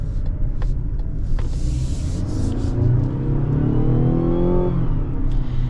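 A 2026 Mazda CX-90 turbo engine accelerates hard from inside the cabin, a steady loud rumble whose pitch climbs as the revs rise, then drops briefly as it shifts, with no talking.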